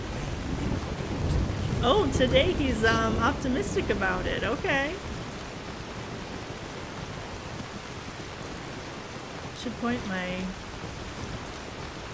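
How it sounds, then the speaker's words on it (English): Steady rain and a distant thunderstorm in Skyrim, a broad hiss of rainfall filling the whole stretch with low rumbling underneath, while someone talks over it early on and again briefly near the end. "Inigo's not gonna like that we're out in the rain"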